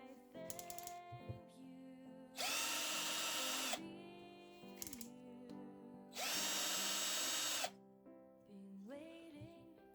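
A cordless drill-driver set to drill mode whirs in two loud bursts of a few seconds each, separated by quieter clicks and handling noises at close range.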